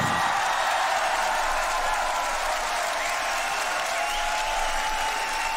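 Sustained loud applause and cheering from a large crowd at the Grand Beatbox Battle 2021 for beatboxer Inertia, a steady roar that cuts off abruptly at the end.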